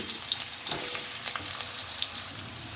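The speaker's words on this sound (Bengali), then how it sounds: "তেল গরম হয়ে গেছে, এর মধ্যে ফোড়নে আমি কালো জিরে দিচ্ছি" Black cumin seeds frying in hot oil, a continuous crackling sizzle with small pops, close and steady, with no talking.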